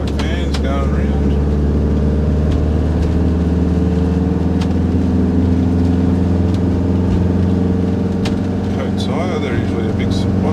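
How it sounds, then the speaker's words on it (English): Motorbikes circling the Mount Panorama racing circuit, a steady loud engine drone running through the whole stretch with people talking over it. "Some motorbike fans going around."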